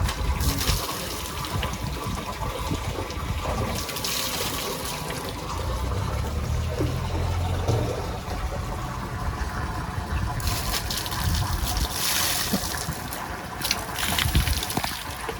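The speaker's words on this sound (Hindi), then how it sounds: "ये भाई हमारा जूनियर शहनशाह, जब पहली दफ़ा पानी डलता है ना, डर जाते हैं कि ये क्या कर रहे हैं हमारे साथ।" Water is poured over young farm animals (calves) during a summer bath, with repeated splashing bursts and running, gushing water, loudest near the start and again toward the end.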